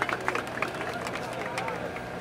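A crowd at a rap battle applauds with continuous, fairly faint clapping and murmuring voices that blend into an even wash of noise throughout.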